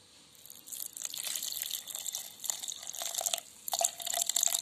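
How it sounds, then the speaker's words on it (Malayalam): Milk pours into a blender jar for an Oreo banana milkshake in uneven splashing gushes, close and fairly quiet, stopping and starting in short bursts. "ഇതിനകത്തേക്ക് നമുക്ക് നമ്മുടെ പാലൊഴിച്ചു കൊടുക്കാം"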